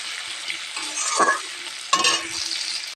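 Potatoes tipped into a hot pan with salt and stirred, a close sizzle with two bursts of scraping and stirring strokes over a steady hiss.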